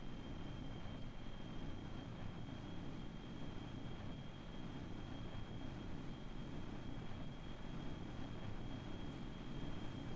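The new jet engine of the Aurora Mk aircraft in Kerbal Space Program gives a steady, even roar with a thin high whine running through it. It stays constant throughout with no voices.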